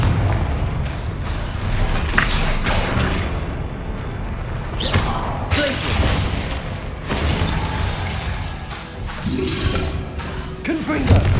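Repeated Confringo fire-spell explosions in Hogwarts Legacy during a fantasy battle: several heavy booms and thuds burst out one after another amid continuous clattering combat noise.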